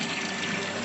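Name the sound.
water flowing through orifice meter pipe in lab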